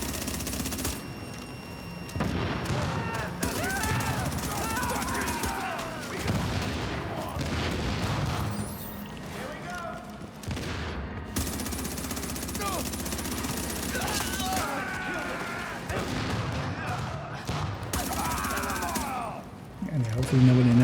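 Video game firefight with a flashbang and sustained bursts of gunfire, loud and continuous under talking players.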